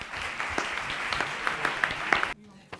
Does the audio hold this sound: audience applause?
yes